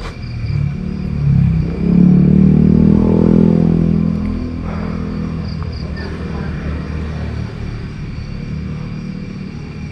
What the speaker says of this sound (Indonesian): tuh kedengeran kan suara motor